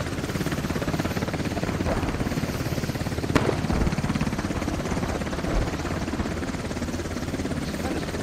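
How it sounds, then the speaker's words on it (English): A helicopter in the military shooter game Squad is taking fire, its rotor thumping in a loud, steady chop that fills the scene, with a few sharp impact cracks over the engine noise. "It's like the helicopter's getting shot at."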